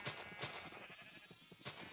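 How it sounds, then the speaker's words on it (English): A sheep in the Minecraft video game bleats several times in quick succession, quiet and close, with short gaps between the bleats and no talk over them. "I love it, there's a sheep on here."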